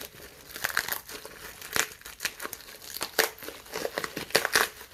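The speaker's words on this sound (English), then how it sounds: "Tend to rip your bubble wrap getting it off" Bubble wrap is torn and crinkled off a freeform resin bowl sculpture in a run of close, sharp crackling bursts at an uneven rhythm, with no talking.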